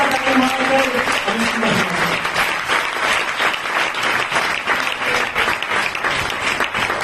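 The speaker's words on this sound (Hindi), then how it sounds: "आज पिता पुत्र पवित्र आत्मा के लिए जोरदार ताली मारकर" Loud, sustained applause from a large church congregation, dense clapping continuing steadily throughout with a few voices mixed in early on.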